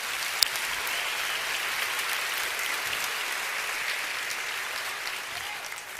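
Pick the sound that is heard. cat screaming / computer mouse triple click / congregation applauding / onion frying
congregation applauding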